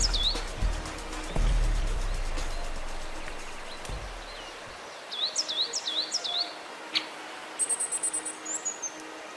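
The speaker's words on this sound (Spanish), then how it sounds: "Esto que pasa por aquí son águilas." Eagles call as they fly past along a mountain hiking route, a series of faint, high chirping cries coming in short bursts from a distance, alongside wind noise and rustling early on.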